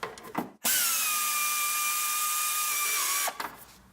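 A power tool with a 12 millimeter socket spins an alternator bolt out of a Toyota Camry engine, a loud, steady high whine lasting nearly three seconds, with clanks of handling before and after.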